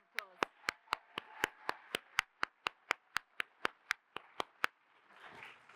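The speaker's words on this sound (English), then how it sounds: "So let's give her another round of applause" Applause from an event audience, heard as a single steady run of crisp, evenly spaced hand claps, faint and fairly close, stopping abruptly near the end.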